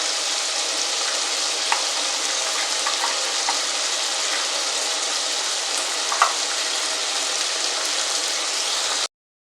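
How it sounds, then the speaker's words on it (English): Tomato paste frying in a pan for homemade pilau gives a dense, even hiss of sizzling oil, close and steady throughout with a few faint ticks, then cuts off abruptly to silence. "I'm then going to add my tomato paste."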